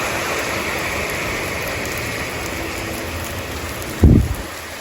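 Steady rain falls with a dense, even hiss in a parking area, holding constant throughout, with a brief louder thump near the end.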